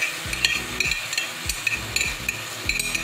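Bell peppers in yellow and green, carrot and spring onion tossed in a hot pan, giving a steady sizzle with repeated clattering scrapes and knocks of a utensil against the pan, close and fairly loud, with no talking.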